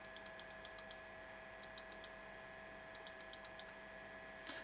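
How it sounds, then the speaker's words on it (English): A computer mouse clicks in quick bursts of sharp, crisp taps, several groups spaced across the stretch, over a steady low whir of a Dynatron K17 CPU cooler fan. "I've got the mouse, just to do the click test"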